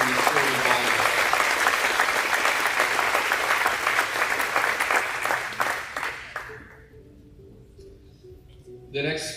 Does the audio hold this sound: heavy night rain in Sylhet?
no